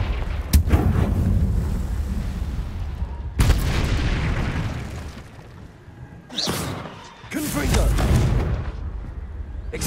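Confringo blasting spells explode in a Harry Potter video game on Xbox Series X: several loud, booming blasts land at irregular intervals, each with a rumbling decay over a steady low background.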